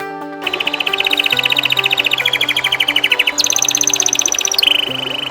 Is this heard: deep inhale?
no